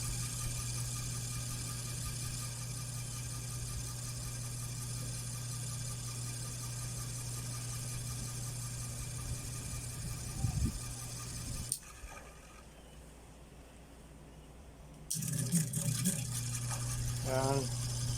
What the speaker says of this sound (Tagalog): So, ito na po yung ating ceiling fan.